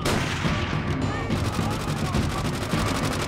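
Dense, continuous gunfire from Call of Duty: World at War campaign combat, rapid bursts and sustained automatic fire layered with distant blasts, loud and unbroken throughout with a voice faintly underneath.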